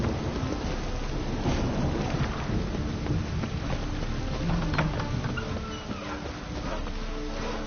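A thunderstorm in the game The Witcher 3 brings steady heavy rain hissing over rolling, rumbling thunder. The roar is continuous and dense, with no talk over it.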